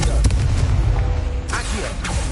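A Confringo spell explodes in Hogwarts Legacy with a loud, dense burst of noise, then a rumbling roar and sharp crackles that fill the whole short moment.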